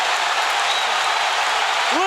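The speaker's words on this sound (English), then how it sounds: "Listen to the crowd." A crowd roars and cheers in a boxing arena, a dense, steady wash of noise that holds throughout, with a faint whistle and other brief higher tones rising through it near the end.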